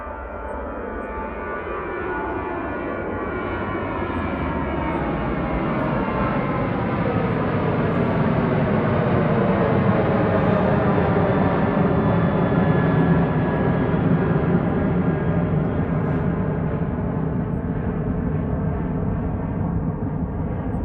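Passenger jet taking off at Manchester Airport, a loud continuous engine roar that swells over the first few seconds and then holds steady and dominant, with no voices.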